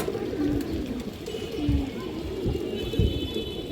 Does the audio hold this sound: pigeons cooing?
yes